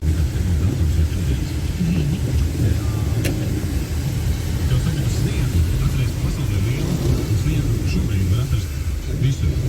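A car driving on a road on a snowy day in Latvia: a steady, close engine and tyre rumble heard from inside throughout, with a voice talking over it.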